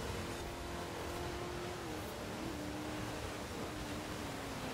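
A car engine racing in Forza Horizon 4 with winter tyres, a steady droning hum under a constant wash of road and wind noise, holding a sustained tone that dips slightly midway, with no voices.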